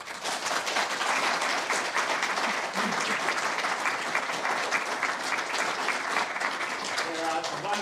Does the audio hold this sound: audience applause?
yes